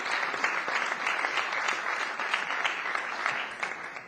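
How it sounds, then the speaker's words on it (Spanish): Audience applauding at a government event backing Madrid's bid for the 2018 Ryder Cup, dense continuous clapping from a sizable crowd, steady and fairly close. "un aplauso."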